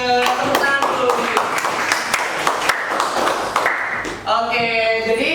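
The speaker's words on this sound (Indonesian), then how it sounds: "Tepuk tangan dulu." Classroom clapping from a group of students during a geography lesson on map projections: a burst of scattered hand claps over a few seconds, with voices talking and calling out over and between them.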